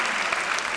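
An audience at a public forum on public safety claps loudly in a short, dense burst.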